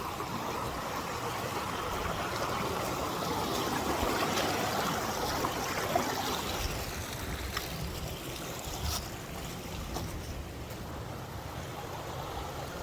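Snow-melt stream running along a hiking trail, a steady, close rushing and gurgling of water with small splashes, continuous and unbroken, with nobody talking.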